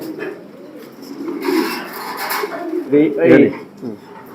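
A proven racing pigeon handled up close, with soft cooing and rustling, rubbing sounds under and between a man's speech.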